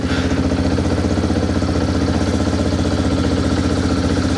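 A 2007 CFMoto 500 engine with a blown head gasket under repair runs steadily on choke, a close, loud, even idle with a rapid regular pulsing throb and no voices.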